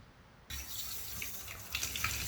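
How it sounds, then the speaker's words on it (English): A faucet is turned on and cold water streams steadily into a sink, a bright continuous hiss, close and unbroken to the end. "And then I would use the faucet with the cold"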